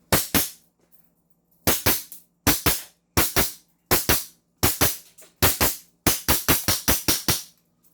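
A CZ Shadow 2 pistol fires a string of sharp, loud shots at close range, single reports and quick doubles with short pauses between groups, ending in a fast volley of six or so.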